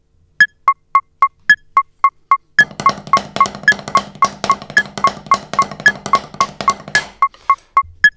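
A fast drum rudiment at about 220 BPM: eight evenly spaced clicks count in, then rapid steady strokes over a low sustained tone, ending with a few more clicks.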